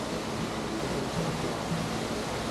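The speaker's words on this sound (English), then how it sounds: "The waterfall is designed to resemble a cascading waterfall with life-size sculptures of divers" Indoor cascading waterfall in a large shopping mall in Dubai, with sculptures of pearl divers, gives a steady, dense rush of falling water that stays constant and fairly loud throughout, with no voices.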